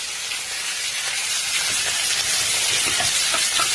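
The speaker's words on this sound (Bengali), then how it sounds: "এবার কেটে রাখা ক্যাপসিকাম আর পেঁয়াজগুলো আমি ফ্রাই করে নেব, একটু হাই ফ্লেমে ফ্রাই করবো।" Sliced capsicum and onions fry in a pan over a high flame, a loud, dense, hissing sizzle close by with faint stirring scrapes, no voices.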